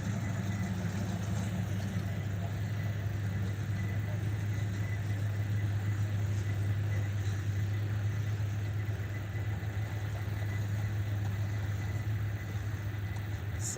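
A G-body wagon idles and rolls out at a car show at a Long Beach swap meet, its engine a steady low rumble beneath crowd noise with faint voices.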